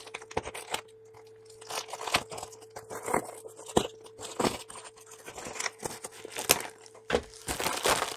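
A fishing tackle mystery box is cut open with Arsenal scissors, close and quiet, with irregular crinkles, crunches and tearing of packaging over a faint steady hum.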